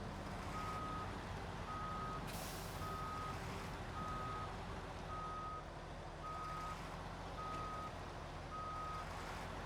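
A Mack Defense truck in SnowRunner backs up with a steady reversing alarm beeping at regular intervals over a loud, constant diesel engine rumble.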